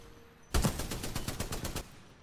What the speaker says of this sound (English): That's the LMG, let's see.